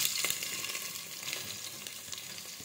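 Garlic and onions fry in a pan for khichdi, giving a steady, close, dense sizzle with faint stirring scrapes and no talk.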